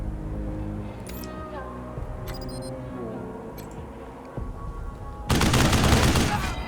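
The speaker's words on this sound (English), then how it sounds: "That machine gun is pretty damn good for a starter weapon" Automatic gunfire from a machine gun used as a starter weapon in Wasteland 3, a bursting, loud fusillade in the final second and a half, preceded by game music and ambience with scattered clicks.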